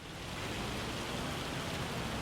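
Steady, dense rain pours in Farming Simulator, a constant broadband hiss that stays even and close throughout, with no thunder or voices.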